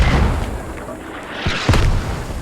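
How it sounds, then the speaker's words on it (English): Mortar rounds striking in the military shooter Squad on the Logar Valley map, heavy booming impacts with deep rumbling thuds, one sharp hit standing out near the end, under a steady battlefield roar. "I don't know if this is ARK mortars landing on the south side of DC"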